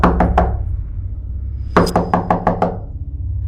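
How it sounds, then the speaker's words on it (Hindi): Knocking on a door in a horror story: a quick set of three raps, a pause, then a longer burst of about six sharp knocks, loud and close with no talk. "ठीक उसी समय दिवे के दरवाजे पे कोई दस्तक देता है।"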